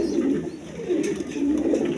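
A pair of Mili Resar pigeons coo close by, soft rolling low calls repeating over two seconds with no talk.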